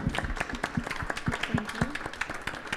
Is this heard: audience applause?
yes